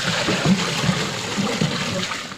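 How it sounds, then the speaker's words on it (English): Mixed milk, made from milk powder and warm water, pours and trickles into a semicircular calf feeder hanging off a gate, a close, steady splashing with soft gurgles and no talk. "So the milk's being poured into this semicircular container that hangs off a gate"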